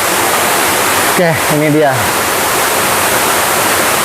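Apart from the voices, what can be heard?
waterfall Curug Cipaningis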